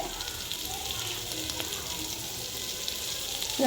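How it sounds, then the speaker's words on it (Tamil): Peanut chutney ingredients sautéing in a pan give a steady, soft sizzle with faint stirring, continuous and close, ending in a brief louder clatter. "இதை போட்டுட்டு நல்லா வதக்கணும்."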